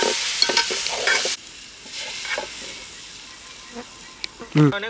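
A spoon scrapes and stirs a gongura chicken mixture in a pan with soft hissing and sizzling, loud at first then quieter, with a voice talking near the end.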